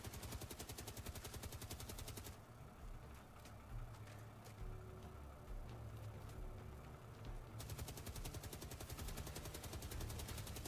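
Automatic gunfire rattles in the video game Star Citizen, fast rhythmic bursts that open and close the stretch, with a rumbling lull of engine-like noise and scattered shots in between, and no voices.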